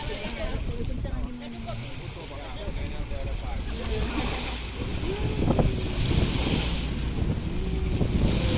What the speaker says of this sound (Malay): Udah ada berangin agak pasang agak tinggi gelombangnya.